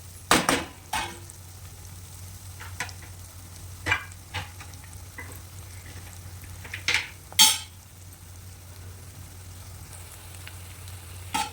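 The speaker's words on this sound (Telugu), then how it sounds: "ఒక 1 మినిట్ వేగిన తర్వాత ములక్కాడల ముక్కల్ని యాడ్ చేసుకోవాలి." Drumstick pieces frying in a pan for a tomato brinjal curry give a steady low sizzle, with several sharp scrapes and clinks of a spoon stirring against the pan spaced across the stretch, close and fairly quiet, no talking.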